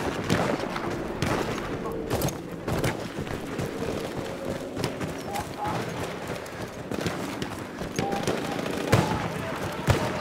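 Gunfire in the World War I shooter Battlefield 1, steady crackling shots and bursts over battlefield noise throughout, fairly dense and mid-distance.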